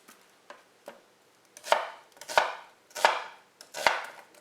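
Knife slicing an onion on a cutting board, a few light taps followed by four sharper, evenly spaced cuts, close and crisp with no talk.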